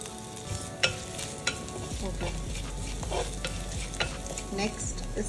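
Cumin seeds and chopped ginger sizzle in hot oil in a pan, a steady close frying hiss broken by a few sharp clinks and scrapes of a spoon stirring.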